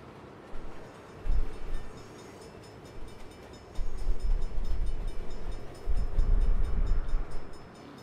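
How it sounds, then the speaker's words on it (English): Train passing in the Saints Row video game, a low rumbling roar that swells in heavy waves with rolling rail noise, loud and close, with no one talking over it. "Bad time for a train."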